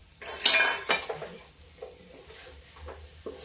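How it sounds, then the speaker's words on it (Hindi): A hot kadhai (wok) is gripped with a cloth and moved on the stove while cooking pumpkin, giving a cluster of loud metallic clanks and scrapes early on, then a few softer knocks and clatters. "ये अब इसको किसी से कढ़ाई को पकड़ लें, गरम हो गई है।"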